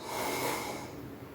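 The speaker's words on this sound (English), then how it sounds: "in through the nose" One short, soft breath drawn in through the nose, a close, airy inhale lasting about a second.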